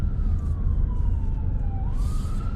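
A police car siren wails at a roundabout on a housing estate, a loud sweeping tone rising and falling over the low rumble of a car engine idling nearby.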